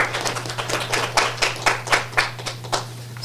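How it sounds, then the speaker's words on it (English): Hands clapping at a discussion event about the First Amendment and press freedom, a sparse, uneven run of individual claps rather than a full crowd roar, steady for a few seconds over a low background hum. "please give our panel a round of applause."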